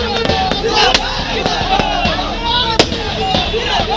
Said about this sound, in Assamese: গোৱালপাৰাত ফটকা ফুটাই আনন্দ প্ৰকাশ কৰে কৃষক মুক্তি আৰু ছাত্ৰ মুক্তিৰ সদস্যসকলে।